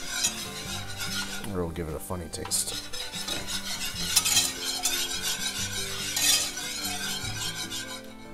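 Flour roux whisked and cooked in a pan produces a busy metallic rattle and scraping of the whisk over a soft sizzle, while a person talks over it throughout.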